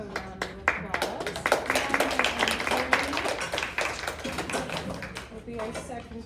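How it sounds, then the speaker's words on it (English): A school spelling bee audience claps in a loose scatter of sharp, irregular hand claps, moderately close, with voices mixed in. "So if you will come up to the front, we will give you a round of applause."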